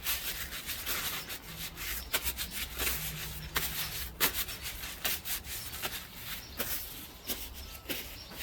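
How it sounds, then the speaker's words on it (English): Hands are wiped with a rag outdoors during service of a Mercury 40hp EFI outboard, soft repeated rubbing strokes in an uneven rhythm, close and fairly quiet. "Favorite thing to wipe my hands off while I'm out here."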